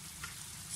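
Pieces of chicken fry in hot oil for homemade KFC-style fried chicken, a brief, quiet, steady sizzle with a faint crackle, and no voices.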